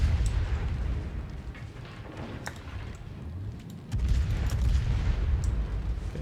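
Naval shells from World of Warships gunfire crash in around a Salem cruiser, a dense rumbling barrage of low booms with sharp cracks scattered throughout and a heavier surge of impacts near the end.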